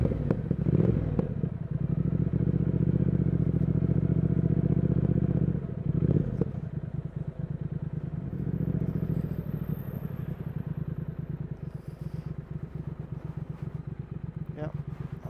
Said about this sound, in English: Just listen to those pipes.